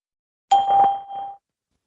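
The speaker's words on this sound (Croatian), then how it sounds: "Nakon zvučnog signala," A single short electronic beep from the Skype call test service plays cleanly once, just under a second long, then cuts to silence.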